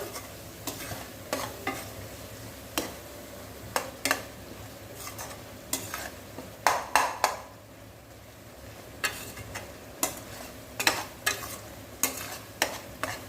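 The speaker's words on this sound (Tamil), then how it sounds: "இப்போ புதினா கொத்தமல்லி கருவேப்பிலை நல்லா உங்களுக்கு வதங்கணும் அந்த பச்சை வாடை போக வதங்கணும்" Mint, coriander and curry leaves sauté in a pan with a steady soft sizzle, punctuated by repeated sharp scrapes and clinks of a spoon stirring against the metal.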